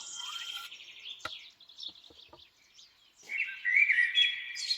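A nightingale sings outdoors in spring, with rich phrases of whistles and trills, a pause with a few sharp clicks, then a louder burst of sustained trilling near the end.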